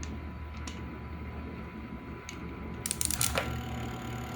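Pliers turning a stuck part on a washing machine give a few sharp metallic clicks and crunches near the end, close by, over a steady low electrical hum.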